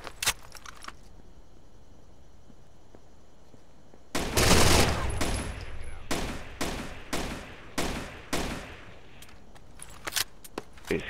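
Rainbow Six Vegas 2 terrorist hunt co-op in the Kill House: bursts of rapid gunfire crack loudly after a quiet stretch, then come as repeated short volleys with pauses between them.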